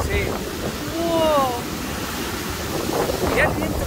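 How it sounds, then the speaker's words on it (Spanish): Steady, loud rushing wind rises from the spray of the Petrohué waterfall in Chile, blending with roaring water noise, while faint voices talk underneath. "Mirá el viento que sube acá de la presión del agua"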